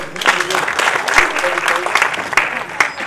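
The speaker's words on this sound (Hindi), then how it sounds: "जोरदार ताली" A crowd at a felicitation and book release event in Bhopal claps steadily, a dense patter of applause from many hands, with some voices mixed in underneath.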